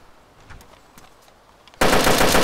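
A sudden loud burst of rapid automatic gunfire in the survival game DayZ Standalone, erupting after a quiet stretch of faint clicks and ringing on to the end.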